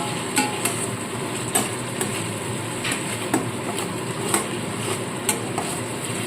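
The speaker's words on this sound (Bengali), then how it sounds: "এখানে মশলা থেকে তেল ছাড়তে শুরু করে দিয়েছে" Spice paste fries gently in oil in a pan, a soft, continuous sizzle punctuated by regular light clicks and scrapes of a stirring utensil, fairly quiet and without talk.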